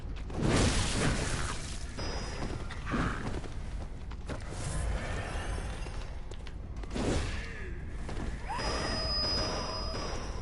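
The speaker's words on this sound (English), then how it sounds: "Oh, it's sort of like firecrackers. Little sonic booms they make." Sharp bursts like firecrackers, small sonic booms from gargoyles at Cainhurst Castle in Bloodborne, cracking in irregular clusters over a steady ambient game backdrop, fairly loud and close.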